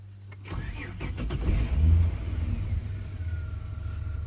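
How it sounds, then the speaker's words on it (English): A 1994 Ford EF Fairmont wagon running on petrol cranks over and fires up, the starter whirring briefly before the engine catches, revs up and settles into a steady idle, close by, with no talk. "So I'm just going to start it for you."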